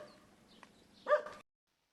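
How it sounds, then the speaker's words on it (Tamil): Puppies bark nearby, a soft yip followed by one louder, sharp bark that stops abruptly. "இந்த நாய்க்குட்டிங்க வேற குலைச்சிட்டே இருக்குது"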